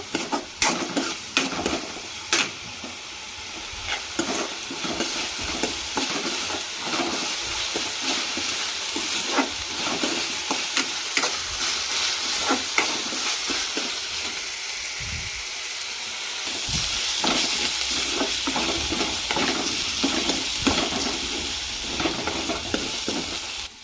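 Ginger garlic paste fries in a pan for a gurney of steady, dense sizzling, broken by frequent scraping stirs and clicks, close and fairly loud, with the hiss brightening toward the end; no one speaks.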